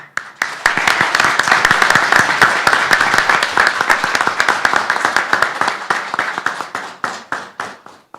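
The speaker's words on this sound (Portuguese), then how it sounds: "Como a sessão está suspensa, o aplauso está liberado." Loud sustained applause fills a municipal council chamber during a suspended session, many hands clapping steadily for several seconds, then thinning into scattered, fading claps.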